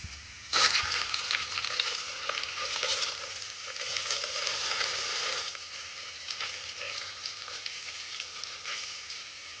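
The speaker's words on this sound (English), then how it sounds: "Let's stir it." Miniature French fries sizzle and fry in a tiny pan on a small stove while being stirred. A steady, close, crackling hiss starts abruptly and continues with soft scraping and patter.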